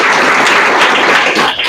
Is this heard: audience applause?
yes